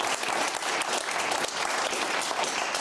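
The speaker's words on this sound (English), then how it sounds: "Big round of applause." A studio audience at a comedy and free speech talk show claps loudly and continuously, a dense wash of applause with no voices over it.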